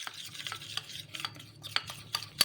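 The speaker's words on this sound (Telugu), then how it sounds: "ఇలా ఈ విధంగా కలిపేసుకోవాలి." Flour being mixed with oil in a bowl, with soft repeated rubbing and scraping strokes and a few light clinks, quiet and close with no voices.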